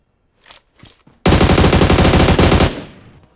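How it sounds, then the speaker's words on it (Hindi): Automatic gunfire in the BGMI battle royale game: a few faint shots, then a loud, rapid sustained burst lasting over a second before trailing off, close and with no voices. "अभी दबा दब एकदम गोलियां चला रहा है"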